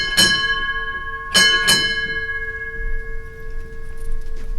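A ship's bell rung at a U.S. Navy retirement ceremony: clear, loud metallic strikes, one then a quick pair, each ringing on with a long resonant decay in a quiet hall.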